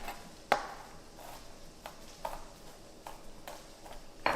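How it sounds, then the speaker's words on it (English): A knife chops garlic against a cutting board, sparse irregular taps with small pauses between them, close and fairly quiet. "I've done this chopping thing a couple times in my life."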